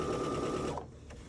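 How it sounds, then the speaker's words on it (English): Sewing machine stitching fabric for a rocking basket's lining and outer shell, running at a steady, moderate pace for under a second before stopping, close and alone with no talk. "you don't wanna sew super fast on this because you wanna keep it nice and straight"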